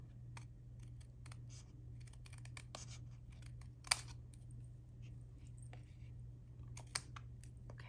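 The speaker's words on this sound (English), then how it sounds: "I can trim this as well." Card paper for a Halloween card is trimmed with quick, faint snips and light scratchy clicks in irregular bursts over a steady low hum.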